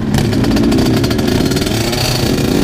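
A motorcycle at an outdoor biker meetup in a parking lot, its engine running loud and close with a rough, throbbing revving roar that holds steady throughout.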